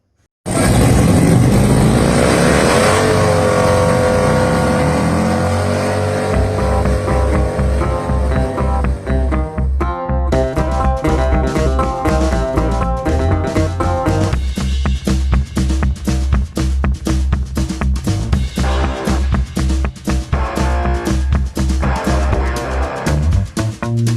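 A Cadillac Northstar engine running loud and close, a steady dense roar with a rev change around ten seconds, then a continuous rough idle-like drone with rapid pulsing and no talk.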